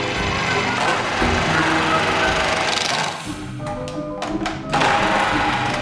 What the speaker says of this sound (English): With the adjustable slicing disc, you can produce anything from 5mm thick slices to wafer-thin slivers.